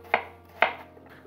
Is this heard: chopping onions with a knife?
yes